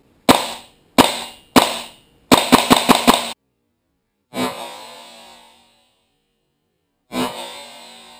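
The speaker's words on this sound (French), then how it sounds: "je vais garder le doigt sur le bolt cache hein, parce que je tire à blanc." WE G39C gas blowback airsoft rifle in open-bolt setup firing blanks: three sharp single reports, a quick burst of five, then two louder, longer-ringing shots, each crisp and close with silence between.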